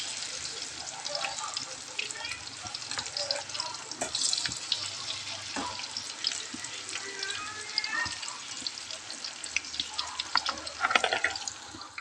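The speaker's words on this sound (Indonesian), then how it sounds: "saiki genten aku goreng tempe ya cah digawe lawuh" Tempeh fries in hot oil in a home kitchen with a continuous close sizzle and crackle, with occasional sharper pops and clinks of utensils.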